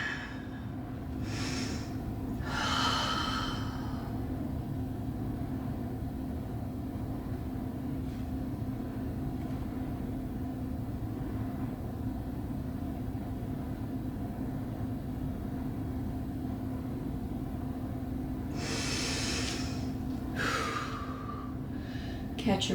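Heavy breathing during a stomach vacuum exercise, with a couple of sharp gasping inhales and exhales near the start and again near the end, separated by a long steady held stretch over a constant background hum.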